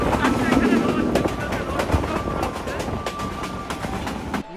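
Jahanabad Express intercity train running at about 70 km/h, a continuous rumble and rattle of the carriages with a faint tone running through it and a sudden drop at the very end, a voice heard over the noise.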